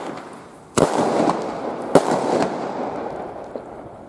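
A mixed batch of leftover consumer fireworks going off outdoors, two sharp loud bangs about a second apart, each followed by crackling hiss and rumble that fades away.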